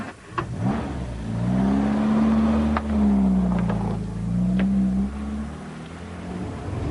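A Triumph Dolomite engine drones steadily while the car is driven. Its pitch rises and falls with the throttle, and the sound stays close and fairly loud throughout.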